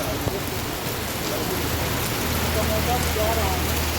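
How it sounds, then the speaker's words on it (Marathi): Continuous rain pours down in an even, hissing wash, with a faint low hum underneath and no clear voices. "खूप पाऊस यायला लागलाय"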